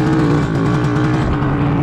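A two-stroke WSK 125 M06 motorcycle engine drones steadily up close while riding off-road, with a buzzy, throbbing exhaust note holding a constant pace and no pauses.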